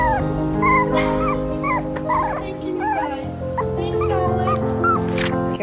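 A dog yips, whimpers and gives short whining barks in close, repeated bursts, heard over steady background music and a speaking voice.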